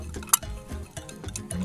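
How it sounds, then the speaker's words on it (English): Dry ingredients being stirred into wet cake batter for an upside-down pear cake, giving soft, irregular scraping and stirring sounds with a few light clinks of a utensil against the bowl, close and quiet. "So now we're going to mix the dry ingredients into the wet ingredients a little bit at a time."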